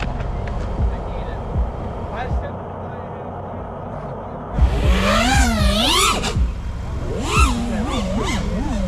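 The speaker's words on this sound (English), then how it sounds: "Full throttle through the woods." Rally-style car driven at full throttle through the woods, engine rising and falling in loud revving sweeps close by after a quieter idle, with someone talking over the start.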